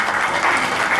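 Audience at a 2014 meditation camp claps in a dense, steady burst of applause, loud and close, filling the whole short moment without pause.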